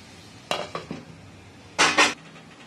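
Cooking pot lid being set over fig and potato curry after water is added, a few light metallic clinks followed by two louder clattering knocks as the lid settles, close and alone.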